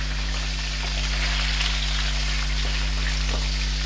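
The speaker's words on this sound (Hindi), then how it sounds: "इसको मैं तेज़ आंच पे फ्राई कर लूँगी इस वक्त तक, जब तक इसका कलर नहीं चेंज हो जाता।" About a kilo of chicken pieces fry for korma in a pan over high heat, giving a steady, loud broadband sizzle with a low hum beneath and no voices.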